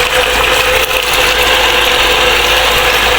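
A water pump draws from a drilled well pipe that has sand inside and little water left, giving a loud, steady mechanical clatter and whir with no talk.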